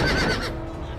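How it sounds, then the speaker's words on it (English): A horse neighs loudly in a video game, a short, shrill whinny that fades quickly into quieter rumbling. "Yes, the horses, mate."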